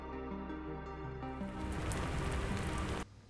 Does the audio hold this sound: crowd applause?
no